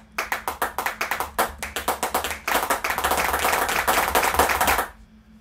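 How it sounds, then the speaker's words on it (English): Sampled hand claps from a clap-machine software instrument play in a quick, evenly spaced series of crisp hits, then merge into a denser, sustained burst of clapping before cutting off. "there is some different clap sounds, which is cool"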